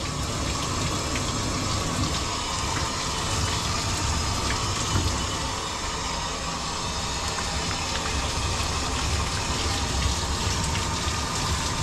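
Running water rinsing shampoo from a dog's yeast-irritated coat, a steady loud broadband rush and splatter that continues evenly throughout with no talking.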